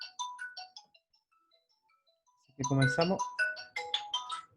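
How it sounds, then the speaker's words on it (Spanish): A mobile phone ringtone plays a short chiming melody, fairly clear and repeating, before a person starts speaking over the last part of it. "Voy a apagar el teléfono."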